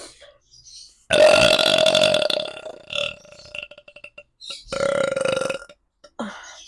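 Several loud, long burps from a person during a mukbang eating session, two drawn-out belches with shorter ones between and a brief sound at the end.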